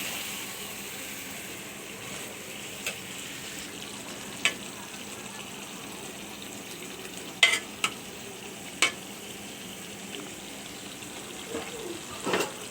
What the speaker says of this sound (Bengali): এবারে আমি ইলিশ মাছগুলো দিয়ে দিচ্ছি। ভালো করে নাড়া দিতে হবে।